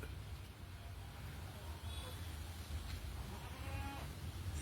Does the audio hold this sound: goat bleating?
yes